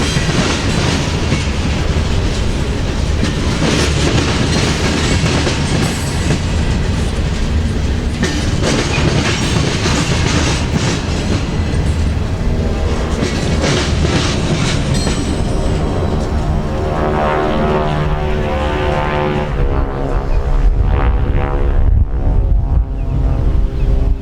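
A freight train rolls slowly over a rail diamond on the Valrico subdivision, steady clickety-clack of wheels and car rumble sustained up close for the whole stretch, with faint squeal near the end.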